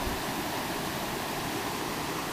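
River rapids on the Kenai Peninsula in Alaska, a constant, dense rush of churning water filling the scene, loud and close with no break.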